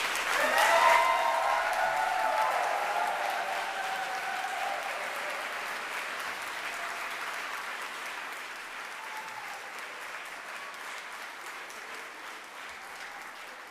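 A large crowd at a graduation ceremony applauds steadily, loud at first and gradually tapering off over about fourteen seconds, with faint voices mixed in.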